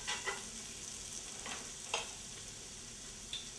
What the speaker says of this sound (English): And then we have some shallot. Just want to saute this for about 2 minutes